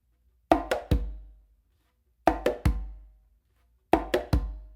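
Three repeated conga phrases, each a quick cluster of three sharp hand strikes, open tones and close slaps ending in a deeper bass stroke, played alone with short silences between the groups.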